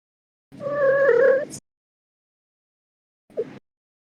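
A voice imitates a cat, one drawn-out meow followed after a pause by a short second mew, close and moderately loud in otherwise silent surroundings.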